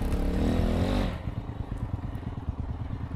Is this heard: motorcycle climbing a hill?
yes